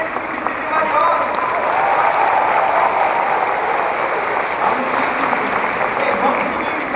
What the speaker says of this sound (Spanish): Esse aplauso é só para aqueles que se sentem valiosos.